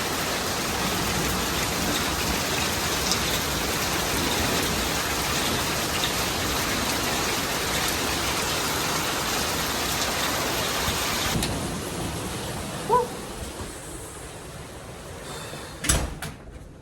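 Steady rain during a thunderstorm, a dense, even hiss that suddenly drops to a quieter, thinner patter, with a couple of sharp knocks near the end and no talk.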